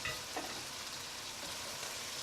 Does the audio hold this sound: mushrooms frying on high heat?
yes